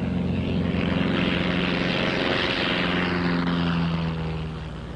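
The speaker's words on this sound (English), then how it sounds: "In the following takeoffs and landings, the crosswind is averaging 15 miles an hour and varying 30 to 45 degrees from the right." Propeller airplane taking off in a gusty crosswind from the right, a steady loud engine and prop drone with strong low harmonics that fades slightly toward the end, no voices.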